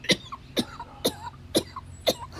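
A man fakes a cough on purpose, giving five sharp, evenly spaced coughs about half a second apart, close and alone with no other sound.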